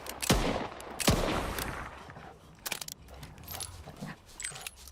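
Two loud gunshots at a dog in the Stalker 2 video game, followed by a cluster of quieter shots and dog whimpers at moderate distance.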